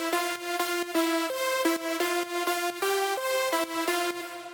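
Bright sawtooth synthesizer notes from an electronic dance track play alone in a steady rhythmic sequence, each tone buzzy and harmonically rich, shifting pitch every half second or so with brief gaps between.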